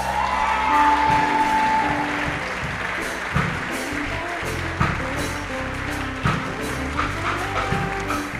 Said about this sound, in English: Another round of applause for Stacy Nyambura from Kenyatta University.